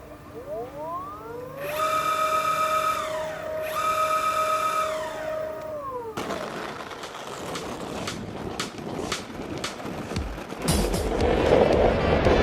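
Two rising and falling electric motor whines from a passing Acton Blink S2 electric skateboard, followed by rough rolling wheel noise and clatter on pavement, fairly close.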